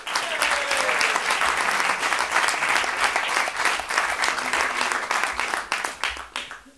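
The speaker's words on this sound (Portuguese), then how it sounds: "Agora queria pedir uma salva de palmas para os convidados." Audience at a Christmas-themed roast show applauds the guests, a loud, dense burst of clapping that holds steady for several seconds and then fades out.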